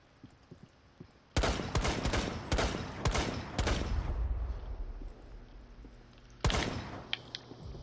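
Gunfire in a shooting video game: a loud, rapid volley of close shots lasting a couple of seconds, a quieter lull, then another sharp burst near the end.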